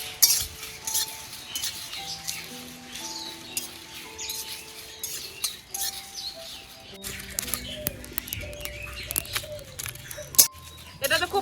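Bay leaf, whole cumin and fennel seeds fry in a pan for a homemade berry pickle. A steady sizzle runs throughout with scraping and clinking as the spices are stirred, and melodic music plays underneath.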